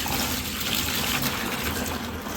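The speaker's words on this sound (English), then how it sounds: "We are going to fill this up with cold water." Cold tap water gushes steadily into a container holding dissolved OxiClean, ready for hand-washing a Lolita jumper dress; a continuous, even rushing pour with no talk.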